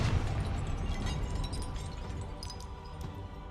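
A fiery Confringo spell blast in Hogwarts Legacy, a fairly quiet explosive burst that fades into a rumbling tail with scattered crackles and sparkling high debris, no talking over it.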